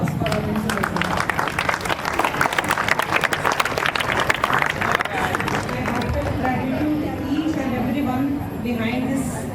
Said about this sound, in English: So I request all the students to give a loud round of applause for our principal sir.